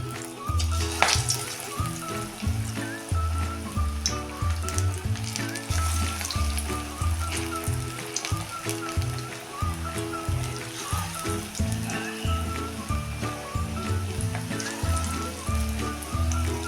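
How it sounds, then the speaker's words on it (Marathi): Sweetcorn bhaji batter sizzles in hot oil over a medium gas flame, with a continuous crackling hiss that runs underneath loud, rhythmic background music for the whole stretch. "बघा आता तेल पण छान तापलेलं आहे ही अशी हातामध्ये हे पीठ घेऊन भजी सोडायची आहेत"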